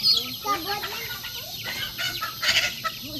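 Young, still-small chickens cluck and squawk close by in a busy, overlapping chorus, with brief louder bursts of squawking.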